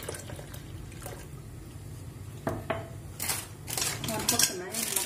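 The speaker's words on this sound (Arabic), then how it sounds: "هنحط باقي الحليب بتاعنا" The rest of the milk is poured into a pot for a cocoa drink, a soft liquid trickle with light clinks of a pan and utensils, close and fairly quiet.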